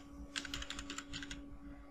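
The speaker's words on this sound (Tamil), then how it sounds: "நம்ம பர்த்டேவே முதல்ல டைப் பண்ணிடலாம்" Fingers tap a computer keyboard in a quick run of close, crisp key clicks lasting about a second, over a steady electrical hum, with no speech.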